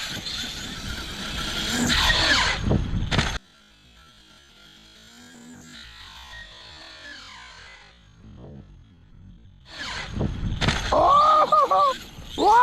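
A 30° North 5T RC car runs hard with its motor whining loudly in two bursts, separated by a quieter stretch, while people talk over it.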